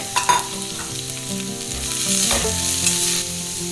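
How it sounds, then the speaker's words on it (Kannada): Vegetables for veg noodles, including cabbage, carrot and capsicum, fry in a pan over medium heat, with a loud continuous sizzle and scraping stirs of a utensil, no voices present. "3-4 ನಿಮಿಷ ಮೀಡಿಯಮ್ ಉರಿ ಇಟ್ಕೊಂಡು ಫ್ರೈ ಮಾಡ್ಕೋಬೇಕು"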